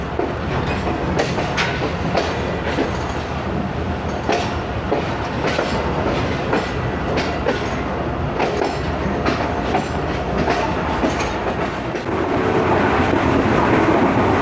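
Tezgam passenger train speeding through Gaggar Mandi station at around 80 km/h, a loud, continuous roar of wheels and rail clatter with rhythmic clickety-clack throughout, close and steady for the whole stretch.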